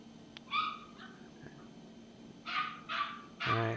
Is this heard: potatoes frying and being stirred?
no